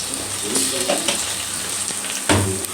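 Ginger garlic paste sizzles and fries in a pan while okra curry is cooked, a steady crackling hiss with stirring scrapes and clinks close by.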